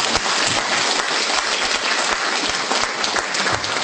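Sustained applause from a lecture audience thanking Professor Han Gang after his talk on the start of China's reform era, a dense, steady clapping that fills the room for the whole stretch without pause.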